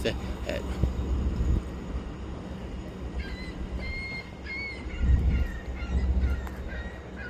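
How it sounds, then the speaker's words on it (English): A gull cries out in repeated harsh, shrill calls over the low rumble of a nearby train. "look at that seagull up there just screaming like that meme"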